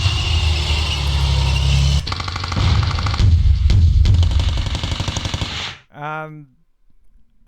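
Gunfire in a video game battle: dense, rapid bursts of shots crackling continuously for several seconds at close range, then cutting off into a short tonal warble.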